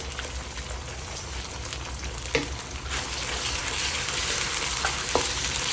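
Tomato paste and tomato sauce being stirred in a pan for beef caldereta, a steady broadband sizzle with a couple of faint utensil scrapes, close and continuous with no talking.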